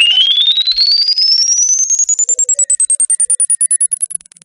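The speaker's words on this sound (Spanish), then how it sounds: "Ahí ya está terminando el bip." A loud, steady electronic beep that rises smoothly in pitch for about four seconds, then breaks into rapid pulsing before cutting off, heard alone with no talk.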